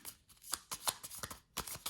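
A deck of tarot cards is handled and cut for a reading, making quick, soft papery riffles and taps in close succession, quiet and near, with no voices.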